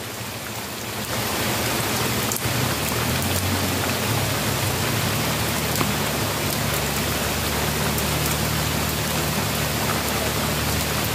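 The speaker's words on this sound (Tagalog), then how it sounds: "Lakas ng ulan." Heavy rain pours in a dense, steady hiss that swells in after a brief quieter start and holds at even loudness, with a low hum underneath and no speech.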